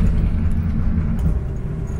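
A Porsche GT3 Touring drives through a downtown street, its engine a steady close low rumble without talk.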